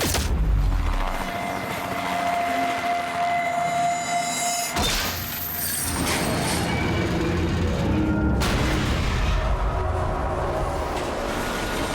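A helicopter in the Quantum Break video game whirs steadily through the whole stretch, a broad rotor-and-engine rumble with a sharp shift near the middle, loud and continuous with no talking over it.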